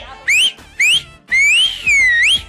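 A person whistling, four separate loud, clear whistled notes that rise and bend in pitch. The first two are short and the last two are longer and sliding, heard close and alone with faint room noise between them.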